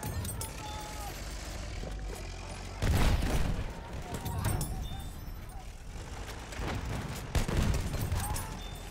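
Enemy machine gun fire in the Battlefield 1 video game, rattling bursts of automatic fire with loud shots amid battlefield noise, while voices call out.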